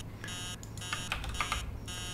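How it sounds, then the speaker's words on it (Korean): Repeated electronic beeping of a morning alarm clock in the indie horror game Emily Wants to Play Too, sounding in steady bursts over a low background hum, with no talking. "아, 아침마다 알람 정말 싫어."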